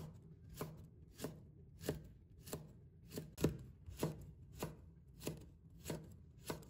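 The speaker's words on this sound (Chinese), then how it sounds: "再准备几个小米椒，先把头切掉不要，再把它切成小圈" A knife slices small red chili peppers into rings on a cutting board, about eleven evenly spaced, crisp taps landing on the board in a steady rhythm, close and fairly quiet.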